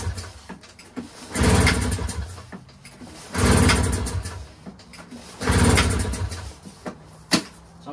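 A Bombardier Rotax snowmobile engine is pull-started without priming: three separate loud whirring cranking bursts, each lasting a second or two, with short pauses between and a sharp knock near the end, and the engine does not catch.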